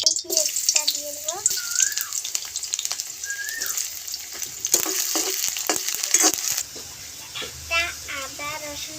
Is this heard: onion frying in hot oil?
yes